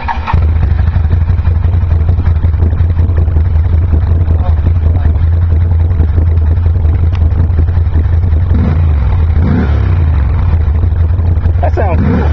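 A Can-Am Renegade 800HO ATV fitted with GSXR exhaust mufflers idles and revs loudly nearby, a steady deep engine drone with several throttle blips toward the end.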